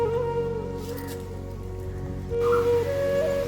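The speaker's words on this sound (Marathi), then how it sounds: "चांगलाच वाढलाय किंवा पाऊस." Steady rain falls in a village in Karnataka, a continuous hiss heard close, with a faint tonal hum running beneath it.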